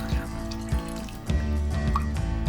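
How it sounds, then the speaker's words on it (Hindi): Water poured from a cup over half a kilo of mutton and tomatoes in a cooking pot, a steady close trickle and splash with a few drip-like bursts, no talking. "चूंकि आधा किलो गोश्त है सिर्फ, तो इस वजह से मैं इसके अंदर सिर्फ 1 कप पानी डाल रही हूं।"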